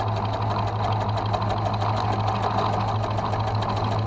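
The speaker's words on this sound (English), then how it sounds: "I'm going to place my presser foot down, and again I'm going to" A sewing machine stitches an applique in a steady rapid run of needle strokes, close and even, with a constant motor hum underneath and no talk.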